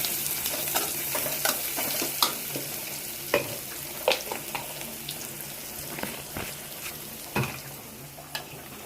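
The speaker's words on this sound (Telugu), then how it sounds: "ఉల్లిపాయ పచ్చిమిర్చి మగ్గిన అల్లం పేస్ట్ వేసా ఉప్పు వేసా పసుపు వేసా" Onion, green chili and ginger paste fry in a pan with salt and turmeric for a drumstick-leaf and moong dal curry, giving a steady close sizzle broken by scattered sharp stirring scrapes and clicks, with no talking.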